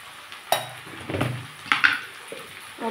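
White sesame seeds with turmeric and salt are stirred in a hot pan, giving a soft, low sizzle broken by a few short scraping strokes of a utensil against the pan, with no talking.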